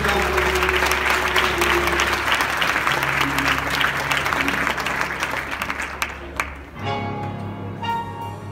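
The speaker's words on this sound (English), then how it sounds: "Clap your hands one more time." A gospel church congregation claps their hands during worship, loud sustained clapping over music with voices mixed in, fading as the music carries on alone near the end.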